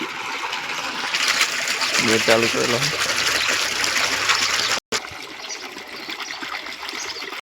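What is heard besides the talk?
water filling a tank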